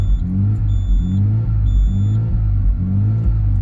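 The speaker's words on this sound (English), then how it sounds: "And I'm revving it, look how." A Mazda RX-7 FD rotary Wankel engine revs in steady repeated surges, a deep loud rumble rising and falling about every second, close by with no talking.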